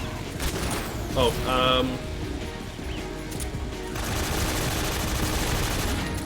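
Gunfire from the Metal Gear video game as missiles are shot down, a dense continuous rattle of shots and crashing game effects throughout, with a brief male exclamation over it.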